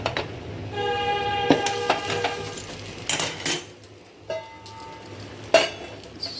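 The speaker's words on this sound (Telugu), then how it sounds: "స్టవ్ పైన గిన్నె పెట్టేసి" A metal cooking pot is set on a kitchen stove to make upma. Close, clear clanks and scrapes of metal cookware come in a few separate knocks amid faint kitchen background noise, with no talk.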